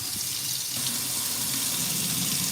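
Tap water runs hard and steadily over an old Timex Ironman watch held under a sink faucet, a close, continuous splashing rush with no pauses.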